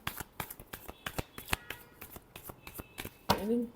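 Tarot cards are shuffled by hand in a quick, even run of crisp riffling clicks, close and quiet, ending as a voice briefly begins.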